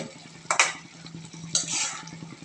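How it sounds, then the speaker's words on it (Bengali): Potatoes and fenugreek greens being stirred in a pan, with two bursts of scraping utensil strokes over a low sizzle and a steady rhythmic ticking hum in the background. "সুন্দর করে নাড়াচাড়া করে নিচ্ছে আলু এবং শাক"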